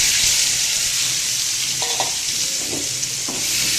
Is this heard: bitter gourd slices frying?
yes